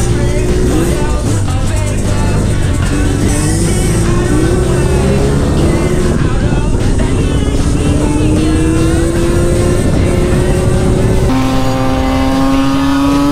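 A Yamaha YZ85 dirt bike engine revs steadily through a ride, its pitch rising as it climbs through the gears, loud and close, with no talk.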